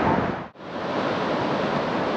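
Sea waves at Tajpur beach wash in as a steady, broad roar of surf, with wind buffeting the microphone and a brief dip in the noise partway through.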